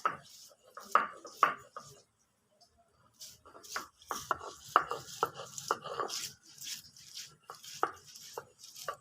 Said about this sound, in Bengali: এখন আমি এই পেঁয়াজটা বেটে নিচ্ছি